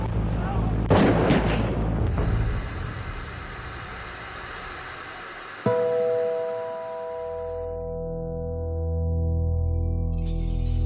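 Gunfire erupts on the Jonestown airstrip, with a couple of sharp loud cracks near the start over rough, noisy filmed footage. A sudden cut then leads into a sustained tonal drone.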